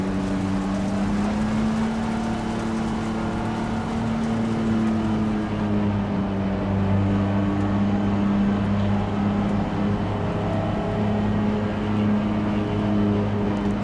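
A BMW M4 race car engine in Assetto Corsa Competizione at Imola, a steady droning tone that rises and falls gently with throttle, holding a continuous loud hum with no speech for about fourteen seconds.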